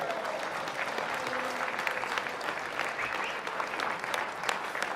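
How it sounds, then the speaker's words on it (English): Sustained audience applause at a Canadian Drag Racing Hall of Fame gala night honouring a veteran drag racer, a steady wash of many hands clapping at even volume with faint crowd voices underneath. "j'aimerais vous présenter avec une bonne main d'applaudissements"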